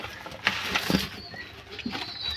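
Domestic pigeons kept in a home coop alongside turkeys and rabbits make soft scattered coos and brief wing flaps, close by and fairly faint, with no talk.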